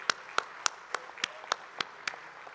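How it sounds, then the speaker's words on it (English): A small audience at a talk or workshop claps in about eight slow, evenly spaced, sharp hand claps, fairly faint and with no voices over them. "Give a big round of applause for him."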